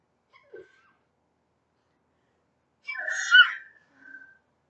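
A single sneeze, close and fairly loud, preceded by a faint sharp intake of breath and followed by a softer breathy sound in an otherwise quiet room.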